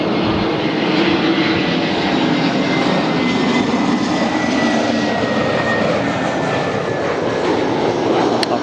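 A Delta jet airliner arriving from Seattle passes at LAX, its engines making a loud, steady, broadband roar that holds evenly throughout with no voices over it.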